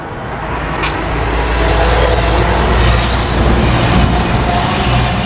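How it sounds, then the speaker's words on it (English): Trucks rumble through an intersection in Intercourse, Pennsylvania, producing a loud, continuous low roar of heavy engines and road noise, with a brief sharp hiss near the start, like an air brake. "Those trucks are horrible, aren't they?"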